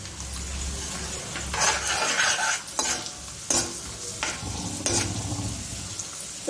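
Cashews and raisins fry in a pan, a close, steady sizzle punctuated by several bursts of scraping as a utensil stirs them, with no voices.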